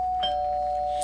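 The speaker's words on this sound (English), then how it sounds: "That's the doorbell." A doorbell rings once during a pause in a celebratory talk show episode, a clear sustained electronic tone that holds steady and fades slowly, with no talking over it.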